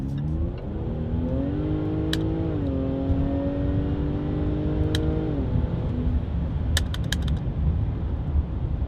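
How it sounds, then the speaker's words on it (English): A Jaguar F-Pace SUV engine revs up and holds a high, rising drone, then drops back to a lower rumble, loud and close, with a few sharp clicks near the end. "The best thing about this car is definitely this noise."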